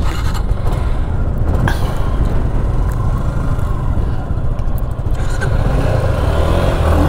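A Suzuki Gixxer motorcycle roars steadily up close as it pulls away under hard acceleration. The loud engine drone is joined by wind rush, with no break across the whole stretch.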